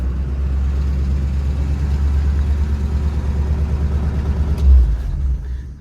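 A 1947 Ford's engine drones steadily while the car is driven, a low, even rumble that holds throughout with a brief swell near the end and no talking over it.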